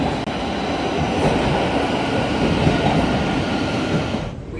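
A departing train in London rumbles steadily with a dense, broad roar of wheels and carriage noise, close and loud, easing off sharply at the very end.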